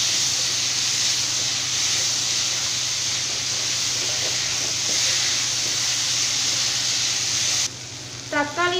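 Tomato and onion sauté in oil with salt for a mint chutney, a loud continuous sizzle and hiss that runs steadily before cutting off near the end, where a brief whistling or chirping sound follows.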